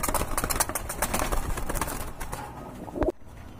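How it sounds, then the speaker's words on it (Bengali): Red checker racer pigeons coo in a loft amid a busy clatter of wingbeats and shuffling, with a louder coo near the end before the noise briefly drops. "রেড চেকার কবুতর, মাশাআল্লাহ, রেসার কবুতর, খুবই সুন্দর মাশাআল্লাহ।"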